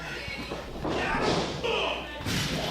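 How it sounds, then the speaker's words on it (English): A wrestler is knocked hard into a steel door during a weapons-and-ladders wrestling brawl, giving heavy thuds and a metallic slam over a loud, noisy arena background. "a forearm sending Cage right into that steel door."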